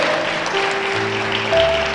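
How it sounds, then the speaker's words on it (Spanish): Church congregation applauding during a Spanish-language sermon, a sustained wash of clapping mixed with steady tones from a keyboard or organ playing underneath. "Dale un fuerte aplauso al Rey de los cielos."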